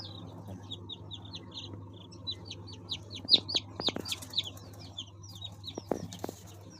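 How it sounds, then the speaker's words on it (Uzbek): Newly hatched chicks, hatched to order, chirp in a busy overlapping chorus of high peeping calls, with several louder bursts in the middle and toward the end over a steady low hum. "bu zakazga ochtirib berilgan jo'jalar"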